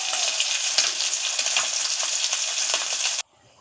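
Fish rubbed with salt and turmeric fries in hot oil, giving a loud, close, continuous crackling sizzle that cuts off abruptly near the end.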